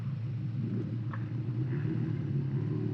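A Kawasaki GPZ600R motorcycle engine pulls away in first gear on a test ride after a carburettor synchronisation. It gives a continuous low rumble with a steady drone and some wind roughness, heard from the rider's position with no talk.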